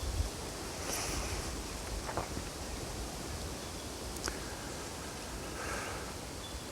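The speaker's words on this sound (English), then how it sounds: "the wind is brewing, which when making a video is very annoying" Steady outdoor wind blows in a broad, even rush that buffets the microphone, with a few faint brief gusts and no voices.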